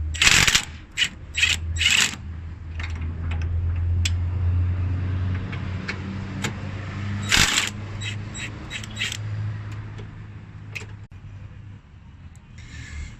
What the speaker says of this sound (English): So that's next to take off those 4 bolts, or slacken the bolts.